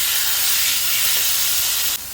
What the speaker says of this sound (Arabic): جبت بقى الجريل وحطيت عليه مسحة من الزيت، بس سبته يسخن جدا جدا، وبعد كده بدأت أنزل بالطير